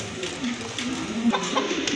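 A pair of tiger-coloured grizzle pigeons coo in low, repeated throbbing murmurs that continue steadily at close range over faint background noise.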